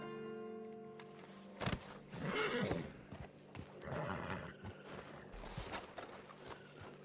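In the video game Red Dead Redemption 2, a horse whinnies loudly and its hooves clop, with another neigh later and steady game ambience underneath.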